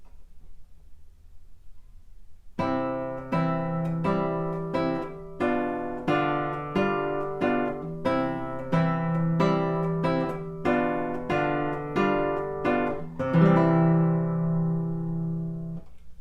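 A plucked classical guitar plays Giuliani's Study No. 1, a steady repeating arpeggio pattern, each note ringing clearly after a short quiet start, ending on a sustained chord.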